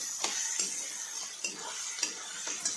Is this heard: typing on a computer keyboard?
no